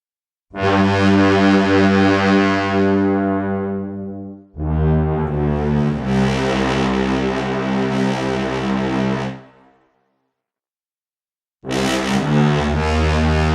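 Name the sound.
bass trombone, Soundiron Hyperion Brass Elements sample library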